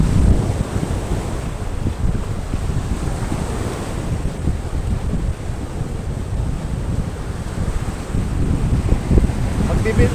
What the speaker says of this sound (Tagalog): Medyo malakas lang yung alon.